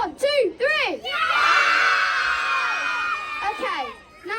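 Young children in a magic show audience burst into loud, sustained shrieking cheers for about two seconds, after a few short voiced calls, then fade into scattered shouts.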